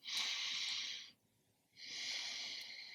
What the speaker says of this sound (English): let's go ahead and take a deep breath in